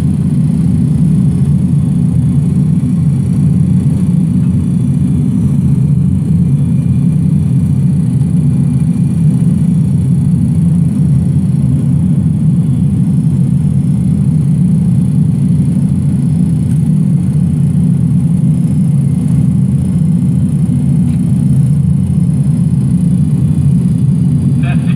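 Pratt & Whitney JT8D engines of a DC-9 airliner reproduced in a flight simulator, a loud, steady low-pitched rumble that holds evenly throughout with no pauses or changes in power.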